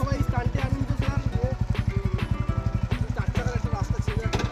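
A motorcycle engine idles close by with a steady, fast, even thumping beat, while people talk over it outdoors near an old army airfield.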